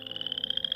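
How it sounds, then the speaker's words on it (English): A frog croaks in a fast, steady pulsing rattle, close and fairly loud, running continuously with no other sounds. "as the frog croaked on throughout the night."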